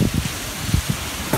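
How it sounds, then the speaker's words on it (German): Strong following wind up to 20 knots buffets the microphone aboard a sailboat running through the Strait of Gibraltar, a loud, rushing roar with gusty thumps, steady across the whole stretch. "Dieses Mal bei achterlichen Winden bis 20 Knoten"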